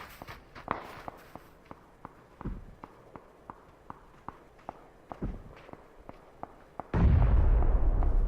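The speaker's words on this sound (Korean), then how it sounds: "아, 저 수류탄. 수류탄이었다" In PUBG, a rapid run of crisp footsteps patters along for several seconds, then a grenade explosion bursts loud and close, leaving a heavy rumbling roar at the end.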